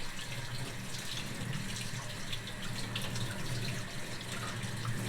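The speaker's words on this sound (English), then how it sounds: "So I'm going to back flush this one as well." Water sprays back and forth while back-flushing a LaPierre Siro maple syrup filter, giving a steady, close hiss and splash that continues without a break.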